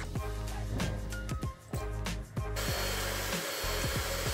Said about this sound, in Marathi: तर आता याच्यात आपण या मशीनने व्हिप करूया